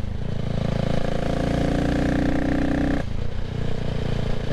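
A CCM Spitfire Six motorcycle engine drones loudly and steadily while riding in cold weather, with a sustained mid-range note that holds until a sudden drop in tone near the end.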